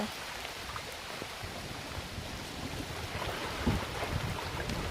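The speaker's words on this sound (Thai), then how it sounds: "เสียงน้ำเสียงน้ำ พาชมบรรยากาศในป่าแล้วก็มาดูทางแม่น้ำบ้างจ้ะ" River water flows in a cool forest as a continuous broadband rush and patter, steady and fairly close, with no voices over it.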